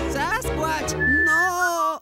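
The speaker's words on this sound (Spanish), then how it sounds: "¡Me provoca silbar otra melodía!" A melodic whistled tune with sliding, wavering pitch, starting over a brief spoken bit and then held clearly on its own, close and fairly loud.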